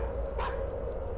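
A single short dog bark in a horror video game, brief and moderately faint over a steady low background hum.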